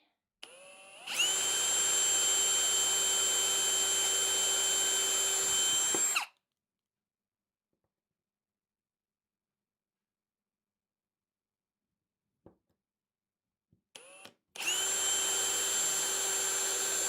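A power drill whines at high speed while boring holes during a radio-control model build, running for about five seconds, then silence, a few faint clicks and a brief blip before the drill starts up again.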